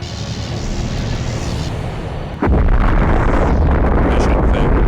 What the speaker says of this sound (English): if Neptune's space station is destroyed by the strike cannons